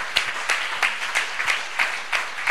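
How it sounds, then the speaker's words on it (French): A church congregation claps in a steady rhythm, about three beats per second, with a sustained wash of applause behind the sharper beats. "Applaudis mon Dieu pour ça."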